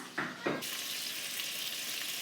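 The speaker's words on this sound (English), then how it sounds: "What are we gonna put the bacon onto when it's done sizzling?" Bacon strips frying in a pan give a steady, close sizzle with a hiss that swells after two soft handling knocks near the start.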